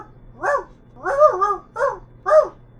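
A man imitates a dog with four rough barks in an uneven rhythm, close and clear, the second drawn out into a double woof, over a quiet low hum.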